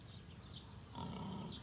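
Pigs in a breeding pen on a farm, low faint grunts and snuffling with a couple of brief higher squeals, quiet and somewhat distant, with no talk.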